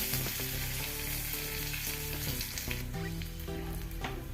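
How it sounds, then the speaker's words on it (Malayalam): Dense, crackling sizzle of crushed garlic and curry leaves frying in hot oil after mustard seeds, loud and continuous, with faint musical tones running underneath. "കടുക് പൊട്ടിക്കഴിഞ്ഞ് നാലഞ്ചല്ലി വെളുത്തുള്ളി ചവച്ചിട്ട് ചവച്ചത് ഇട്ട് കൊടുത്ത് കുറച്ച് കരിയേപ്പിലും ഇട്ട് കൊടുക്കുക"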